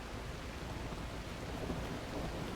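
Steady rain and a low rumble of thunder from the video game The Last Caretaker form a dense, even wash of noise that stays at the same level throughout, with no voices.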